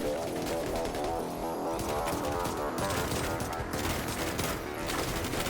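Dense gunfire in The Division 2 video game as a deflector shield bounces bullets: rapid, overlapping shots and metallic clatter, loud and continuous for several seconds, with no speech.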